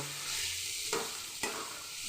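Steady sizzling of onion and carrot stir-frying in a pan, with two brief scraping stirs of a spatula against the pan.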